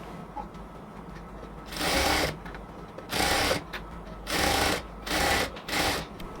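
A sewing machine runs a lock stitch along the waist of a luxury cotton kameez in several separate bursts, each a second or less, with quiet handling between them.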